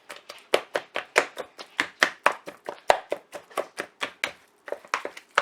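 Meat for carne con chile is beaten to tenderize it, producing a steady run of about two dozen sharp, close slapping thuds in a quick, even rhythm with a brief pause near the end.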